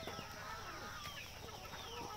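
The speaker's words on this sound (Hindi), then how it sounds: "एक मुर्गी अंडा दे रही है अभी" A hen clucks while laying an egg on a farm with desi poultry, repeated soft clucks and squawks over a steady background hum, fairly faint and close.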